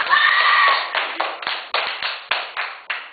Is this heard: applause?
yes